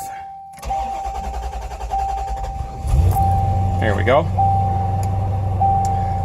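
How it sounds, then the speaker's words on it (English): A Chevrolet Corvette C4 ZR-1 with the LT5 engine cranks and fires up, settling into a steady idle rumble close by, with a dash chime beeping repeatedly and someone talking over it. "So if we go ahead and start the car up, you can see it come to life."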